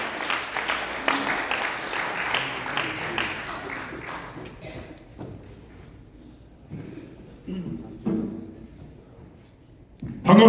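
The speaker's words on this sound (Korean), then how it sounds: "우리 자유통일당 대표신 고영일 변호사의 연설 큰 박수로 청해 듣겠습니다" A crowd at a Liberty Unification Party rally welcomes lawyer Go Young-il with loud applause that gradually thins and fades, leaving scattered claps and quieter room noise near the end.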